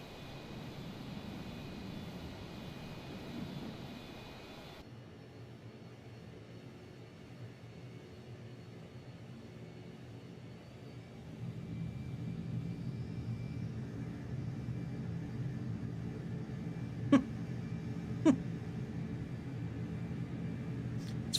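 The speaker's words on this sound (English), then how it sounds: "Funny that plane keeps on flying across the screen." An airplane in Microsoft Flight Simulator 2020 drones past with a steady low engine rumble that swells partway through, joined by a couple of sharp clicks near the end.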